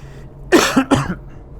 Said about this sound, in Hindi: सॉरी थोड़ा खांसी हो रही है